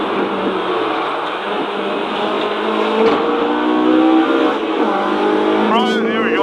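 A race car laps Snetterton circuit in qualifying, its engine droning loud and close with shifting revs and a climbing pitch near the end, heard from onboard.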